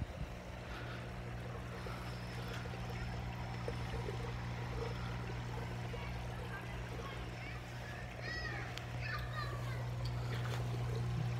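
An air pump aerates the water in a simple home hydroponic system made from water pipes, giving a continuous bubbling, hissing wash with a steady low hum under faint background voices.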